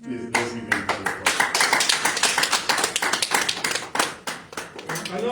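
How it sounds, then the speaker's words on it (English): An audience at a Peter Obi chapter launch event claps in welcome, a dense, lively burst of hand claps building quickly and continuing steadily, close and loud. "Please, let's give him a round of"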